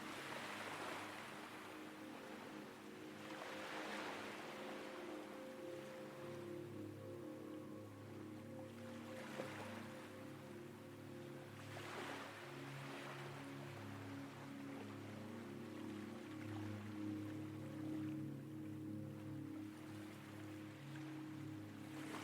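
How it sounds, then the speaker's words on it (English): Sea waves wash against a nearby shore at night, a soft, continuous hiss that swells and recedes in slow, gentle surges, faint and alone without voices. "The sound of the sea nearby is irresistible"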